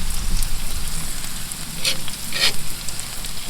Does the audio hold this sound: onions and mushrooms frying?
yes